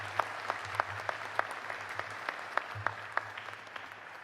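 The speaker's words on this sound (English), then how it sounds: "Let's give all of our honorary degree recipients a thunderous applause" Commencement audience applauding honorary degree recipients, a thin, fairly quiet spatter of separate claps in a large hall, sharp individual hand claps standing out over a low hum.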